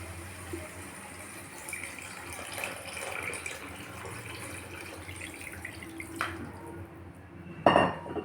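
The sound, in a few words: pouring water into cooking pot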